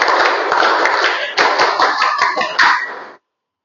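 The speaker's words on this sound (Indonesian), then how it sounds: "Tepuk Pramuka." A scout group performs the Pramuka rhythmic clap, many hands striking together in a dense, loud burst that pauses briefly twice before a final flurry and abrupt stop.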